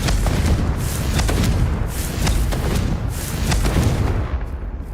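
Repeated booming blasts of the Confringo fire spell in the video game Hogwarts Legacy, several loud bursts in quick succession over a dense rumbling background.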